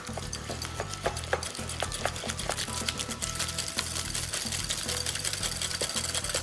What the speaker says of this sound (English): Two nice tablespoons of mascarpone cheese. Whisk that into the egg yolks.